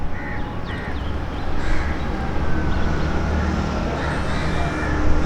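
Crows caw repeatedly as they fly about outdoors in windy weather in Pakistan, scattered calls at middle distance over a constant roar of wind and background rumble.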